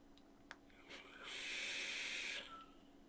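A vape coil on a Wasp atomizer, 0.35 ohm and fired at 60 watts on a Puma mod, gives a soft, steady sizzling hiss that swells for about a second and a half, then cuts off, with faint clicks before it.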